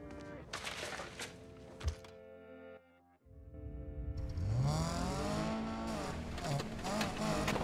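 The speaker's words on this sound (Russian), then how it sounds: "опять машина плохо заводится" A car engine in the racing game Need for Speed Payback cranks and sputters as it struggles to start, followed by a rising, wavering engine tone, loud and close.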